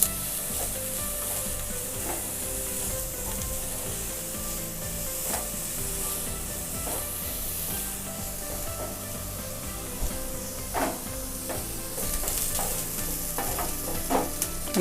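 Onions sautéing in oil in a pan for a crisp moong dal dosa filling, a steady close sizzle with scraping stir strokes and occasional sharper clicks throughout, no voices.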